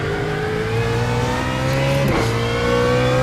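Race car engine at Sebring in the iRacing video game, a loud whining engine holding high revs before a quick downshift blip and drop in pitch, then climbing again.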